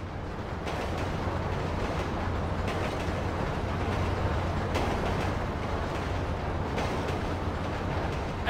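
A train thundering through in GTA V, a continuous heavy rumble of rolling stock that holds steady for several seconds, near and loud, with faint rising swells and no speech.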